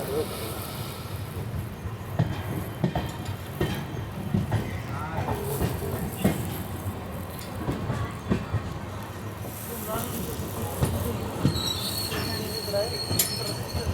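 Mumbai Hyderabad SF Express (22732) running on the line toward Pune, a steady rumbling roll with clattering wheels and rattling carriage noise throughout, plus occasional higher squeals.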